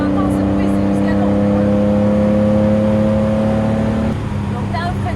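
A 2021 Porsche 911 S engine hums loud and close from inside the car, holding a steady tonal whine while accelerating, then the pitch drops away near the end as it eases off.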